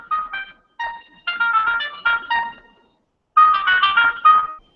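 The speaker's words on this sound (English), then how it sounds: "Beautiful ringtone." A bright melodic phone ringtone plays in short musical phrases with brief pauses between them, fairly loud and close, with no talking over it.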